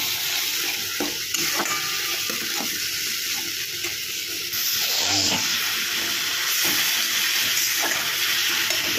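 Masala sizzles and frying in a pan for a boal fish oil-jhal, as small splashes of water are added from the blender bowl. A steady, close crackle with stirring continues throughout, with no talking.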